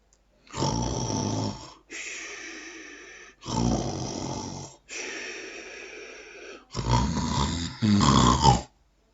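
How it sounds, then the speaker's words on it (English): A dog's loud, rasping snores in five long, rhythmic breaths separated by short pauses, close and harsh. "he would fall into deep sleep, snoring his head off"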